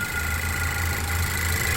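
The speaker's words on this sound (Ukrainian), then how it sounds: "Заведений двигун 181 тисяча рідного пробігу" An automatic-transmission car's engine, with 181,000 original kilometres, idles steadily with a low, even rumble and faint mechanical hum, continuous throughout and close by.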